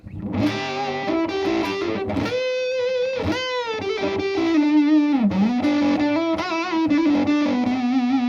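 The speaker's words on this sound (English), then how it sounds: "I have it sort of set to bridge the gap between fuzz and distortion" A distorted electric guitar through a fuzz pedal set between fuzz and distortion, with a thick fuzzy tone, plays a melodic line with bends and sustained notes, loud and close, no talking.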